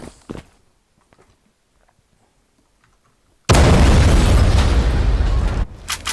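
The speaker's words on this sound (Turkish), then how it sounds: "Kardeşim bomba patladı" A sudden, massive bomb explosion in the game Zula, on the Favela map, bursts in after a few seconds of near silence, a loud sustained roar filling the rest of the clip.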